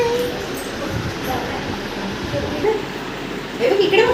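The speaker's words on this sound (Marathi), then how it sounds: "लोकल ट्रेनने आम्ही जात आहोत CSTला" A local commuter train heading to CST rumbles along in a steady, loud, broadband roar from inside the carriage, with voices mixed in.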